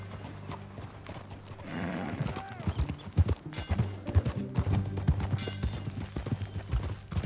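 Horse hooves clip-clop in a steady rhythm in the video game Red Dead Redemption 2, close by, with a brief whinny near the start and a low musical drone underneath.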